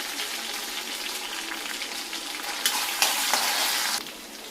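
Hot oil hisses and sizzles steadily, swelling louder near the end as more goes into the pan, then settling back down.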